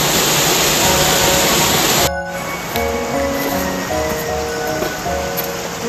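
A small waterfall at Longfeng Valley in Alishan, Chiayi County, rushes in a steady, close wash; after a brief break, high tonal chirps sound over the water.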